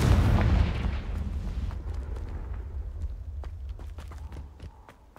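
A Confringo fire spell blasts in Hogwarts Legacy, a heavy booming explosion up front that rumbles and decays, followed by scattered sharp crackles and impacts fading out.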